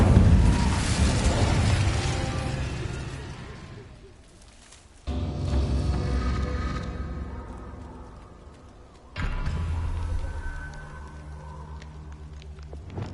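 Incendio fire spell cast in a Hogwarts video game, two whooshing fiery bursts that swell loud and then fade, each followed by a dying crackle.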